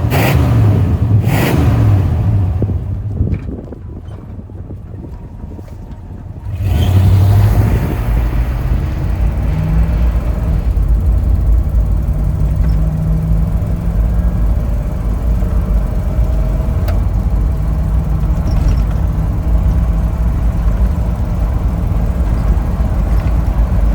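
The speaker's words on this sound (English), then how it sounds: "old V8 blowing the cobwebs out of it a little bit" A Jeep Grand Wagoneer with a gas V8 pulls with a loud, steady engine drone and road rumble, heard from inside the vehicle, the pitch climbing slowly as it accelerates, with wind noise and no talk.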